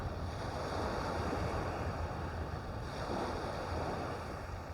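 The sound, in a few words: wind on the shore while sea fishing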